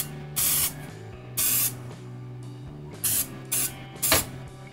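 A ChefVantage olive oil sprayer releases five short pressurized hisses, two longer bursts and then three quicker ones, each a close, sharp mist sound separated by pauses.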